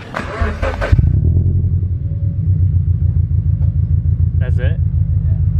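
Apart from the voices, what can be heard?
slammed Scion FR-S exhaust note while revving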